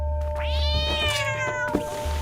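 A cat in a video game lets out one drawn-out, rising-then-falling meow, clear and close, followed by a softer short mew near the end over a low background hum, with no talking.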